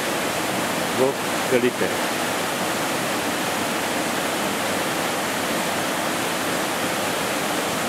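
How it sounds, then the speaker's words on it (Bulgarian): A large waterfall near Fotinovo drops 20 to 30 metres, making a loud, steady, full roar of falling water that never lets up, with someone speaking briefly over it near the start. "И малко над него е големия водопад, който скача от 20-30 метра височина"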